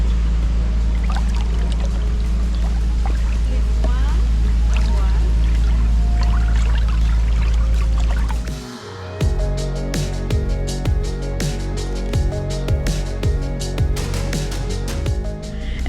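Powerful water jets churn in a lukewarm spa pool, a steady loud rushing that cuts off abruptly midway, then gives way to splashing, trickling and scattered clatter.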